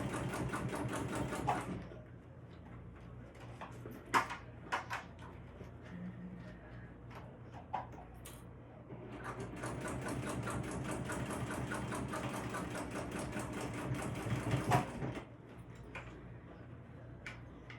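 Sewing machine stitching a bag: rapid mechanical clatter in several bursts, a long run at the start and another in the middle, separated by quieter pauses with small clicks and handling sounds.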